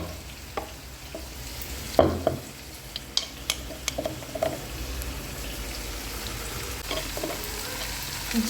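Ginger garlic paste frying in a pan, a steady sizzle broken by scraping stirs and occasional louder clatters of the spoon against the pan, close and with no talk.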